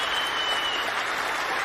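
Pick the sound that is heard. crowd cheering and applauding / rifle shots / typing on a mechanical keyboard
crowd cheering and applauding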